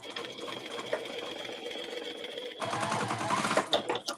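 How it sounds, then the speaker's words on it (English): A sewing machine bastes around a bag with a one-eighth-inch seam allowance, running steadily and then speeding up into a louder, faster whir near the end. "I'm just going to baste all the way around where I clipped using 1/8 of an inch seam allowance"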